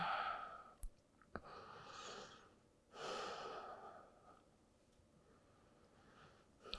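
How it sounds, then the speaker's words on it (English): Slow, steady breathing during a heart-opening yoga flow, with soft drawn-out inhales and exhales rising and falling in long waves, close and quiet, with a couple of faint clicks and no speech. "Slow, steady breaths."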